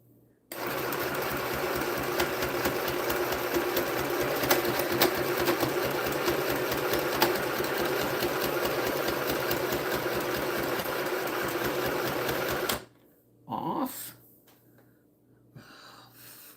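A sewing machine with an improperly threaded needle, its feet failing to pull the fabric through, runs continuously for about twelve seconds with a loud, even whirring hum, then stops abruptly, followed by a few brief handling noises.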